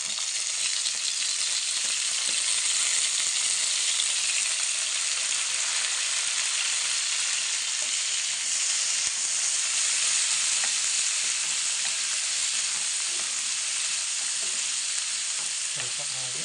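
Chopped tomatoes fry on a low flame in a pan while a village-style country chicken curry is being made, giving a steady, continuous close-up sizzle with no talking.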